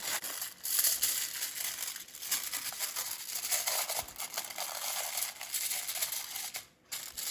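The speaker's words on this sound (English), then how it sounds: "make a tray using the aluminum foil like this" Aluminum foil crumpled and shaped by hand into a tray for air-fryer pork belly: continuous crisp crinkling and crackling with brief pauses, close and fairly loud, no talking.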